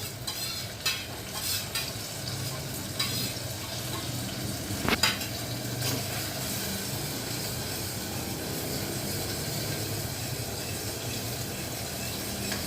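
Dry ground spices (cumin powder, Kashmiri red chili powder, turmeric) stirred and frying with onion and tomato for whole moong dal, a steady close sizzle with intermittent scraping stir strokes throughout.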